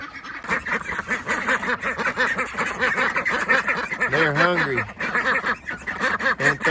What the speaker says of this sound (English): our meat ducks are huge, and they're not even full grown yet